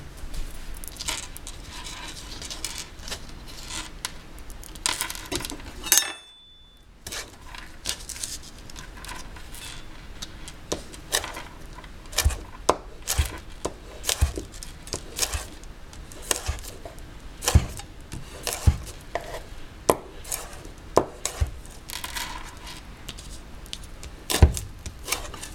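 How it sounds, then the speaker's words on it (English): A knife slices food with a steady run of short crisp cuts and crunches, close and fairly quiet, with one brief pause early on and no talking. "I'm just going to slice it up for you guys"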